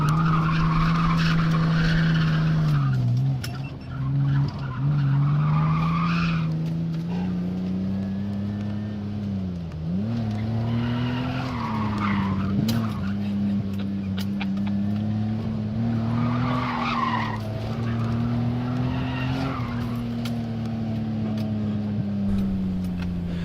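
A car drifting on a skid pad, engine droning steadily at high revs while the tires squeal and skid in long sustained waves, close and loud throughout.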